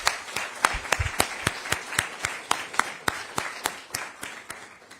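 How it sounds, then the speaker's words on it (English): Scattered audience applause at a 50th anniversary commemoration of New Jersey's Mount Laurel ruling, held in a sacred space: a sparse run of distinct, evenly spaced claps, moderately near and fairly quiet, continuing steadily throughout. "Let's give a round of applause for everyone who made this happen."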